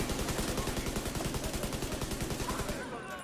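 An auto rifle fires in the video game Division 2 as a loud, rapid, evenly spaced automatic burst that runs for about three seconds before cutting off.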